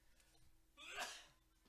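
A single sneeze bursts out at a comic and games shop's live sale, one short sharp breathy blast in a quiet room, with faint background murmur around it.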